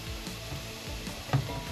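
Mushrooms, shallots and garlic sizzling in a pan, a soft steady frying hiss with faint stirring scrapes and one brief louder knock near the end, close and fairly quiet with no voices.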